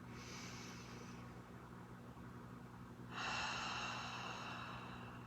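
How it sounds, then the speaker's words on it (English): Slow, deep breaths drawn in and let out during a guided energy-clearing breathing exercise, a soft airy inhale followed by a fuller, louder exhale, heard close with no talking. "2 more breaths."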